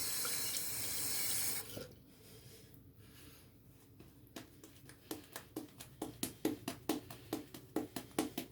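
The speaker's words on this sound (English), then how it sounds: "Let's add a little more water to this brush." Water runs from a tap onto a shaving brush: a steady rush of flowing water, then quieter handling, then a string of rhythmic wet squelches as the brush is worked, close and without talk.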